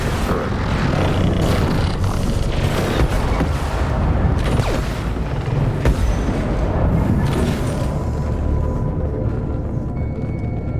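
Heavy booming blasts and rumbling detonations in a Mass Effect 2 firefight at a geth base, dense and loud throughout with crackling debris and a sustained low roar.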